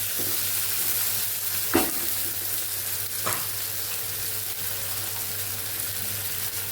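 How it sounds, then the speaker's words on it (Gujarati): Green onion and vegetables sauté in a pan with a steady, even sizzle, broken by two sharp stirring scrapes of a spoon against the metal. "એને સાતડી લેશું"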